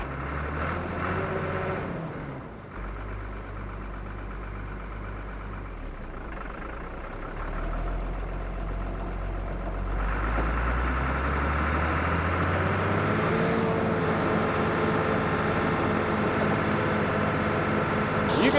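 A Hesston 1372 tractor engine idles and slowly revs up toward PTO speed, a loud steady low rumble that rises after about ten seconds and holds, with a weak battery noted.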